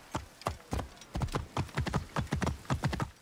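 Video game horse hooves clip-clop in a quick, uneven trotting rhythm, clear and close, with no voices.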